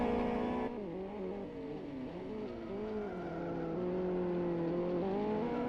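Race cars in Live for Speed drive hard, engines revving and wavering in pitch as they hold close together, loud and continuous with some tire squeal and no voices.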